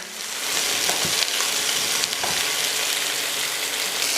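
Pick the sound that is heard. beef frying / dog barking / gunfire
beef frying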